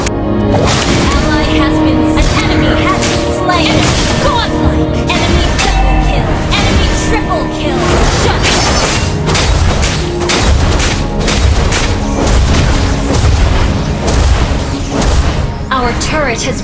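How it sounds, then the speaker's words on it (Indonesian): Loud booming explosions and battle effects from the Mobile Legends game as a turret is destroyed, continuous and dense under game music, with a voice speaking throughout. "turret has been destroyed."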